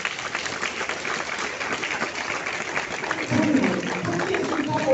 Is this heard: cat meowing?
no